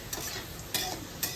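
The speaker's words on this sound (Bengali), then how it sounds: "উচ্ছে ভাজাটা হয়ে গেছে" Bitter gourd in a pan gives a faint, steady sizzle with two or three soft scraping strokes of a utensil, brief and without voices.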